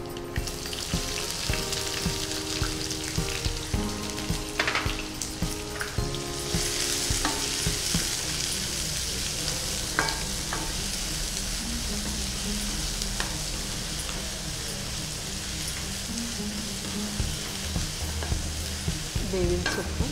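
Onions frying and being stirred in a pan for a Hayagreeva maddi dish, with a steady close sizzle and repeated scraping stirs throughout, no voices.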